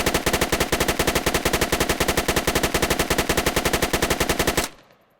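Automatic rifle hip-fired in the video game Squad, an Insurgent weapon: one loud, rapid, unbroken burst of gunfire lasting about four and a half seconds, then it stops abruptly and leaves a short fading tail.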